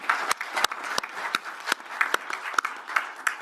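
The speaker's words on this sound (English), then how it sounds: "please join me in giving them a round of applause" Applause from a conference audience for the panelists after a smart grid session, loose and moderate with sharp individual claps scattered through a soft continuous patter, heard at some distance.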